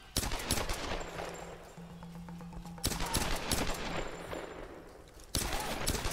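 Rapid bursts of automatic gunfire from the Tomb Raider (2013) video game crackle in dense volleys, broken by sharp loud restarts between sustained strings of shots.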